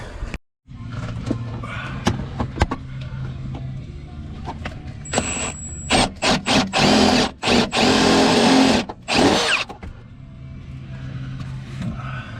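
Power drill boring into the body of a Honda EG hatchback in a garage, fitted with a B20 VTEC turbo engine; a steady motor hum runs, then several loud bursts of whining drilling with short pauses between them, close by.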